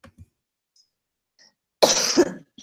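A single burst of coughing from one person, close and fairly loud, after a near-silent stretch, with a short rough tail and a faint sound at the very end.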